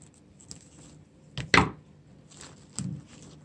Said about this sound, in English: that's why I have to cut it with the scissors.